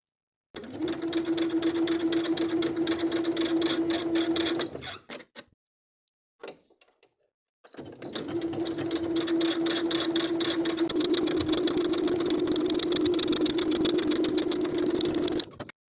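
A domestic sewing machine with a regular presser foot stitches a 3/8 inch seam down a spring dress, running in two long steady bursts with a steady hum, separated by a short pause with faint handling clicks.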